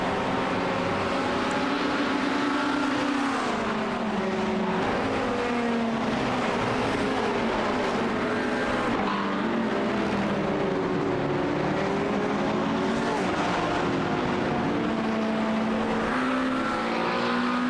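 GT race cars, a McLaren and a Corvette, roar around Silverstone Circuit in a racing video game, with continuous engine whine rising and falling as they shift gears, loud and unbroken.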